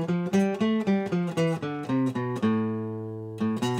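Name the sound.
guitar playing a natural minor scale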